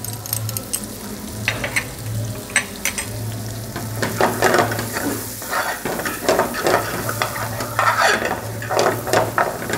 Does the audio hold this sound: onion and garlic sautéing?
yes